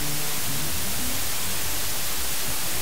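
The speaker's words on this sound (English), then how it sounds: "we've also got TPDF dither" TPDF dither noise holds as a continuous, dense broadband hiss at a constant level from start to finish with nothing else over it.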